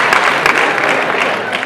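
A conference audience claps briefly in a short burst of scattered hand claps, dense and fairly close, with faint voices mixed in.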